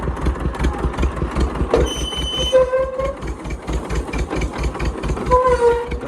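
A tractor ploughs a field in low gear under heavy load, its engine throbbing in a steady, rapid chug close by, with brief tonal whines rising above the rumble.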